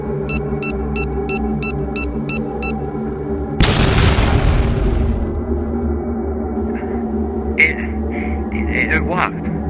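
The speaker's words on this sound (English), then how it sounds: "I reactivate the bomb, I can blow a hole through the wall." A bomb blasts a hole through a wall in Minecraft, a single loud boom bursting in after a run of steady beeps over a droning background, then rumbling away into scattered small clatters.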